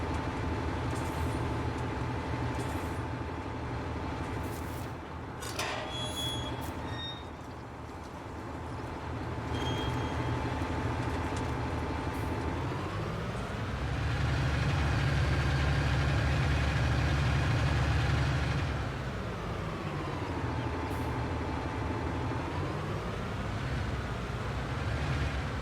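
Tractor engine running with a mower attached in Farming Simulator 19: a continuous droning hum that rises and falls in pitch as the engine revs up and settles again, with a few faint clicks early on and no talk.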